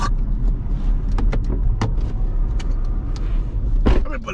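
A car's electric power window whirs down inside the moving vehicle, a brief motor hum under road rumble and cabin noise, with small clicks and rustles nearby.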